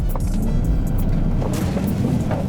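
Porsche 911 Dakar driven on a WRC Super Special Stage: a loud, close engine rumble with gravel and road noise crunching underneath, steady and heavy over a few seconds with no speech.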